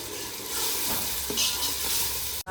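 Homemade tomato sauce is poured into a pan of softened frying onions with green chillies and garlic, giving a steady close sizzle with stirring scrapes throughout and a brief cut near the end.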